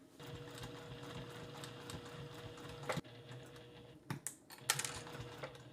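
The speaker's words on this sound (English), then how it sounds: "when I put it in the sewing machine, sew it straight like this through." A sewing machine stitches a zipper on a bag with a rapid, steady mechanical whir up close, followed by a few clicks and clunks as it stops and starts.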